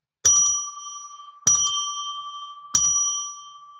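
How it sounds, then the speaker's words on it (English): A bell rings three times at even intervals, each a bright, clear strike left to ring out and fade before the next, with nothing else heard. "Let's just ring a bell 3 times to declare sacred space."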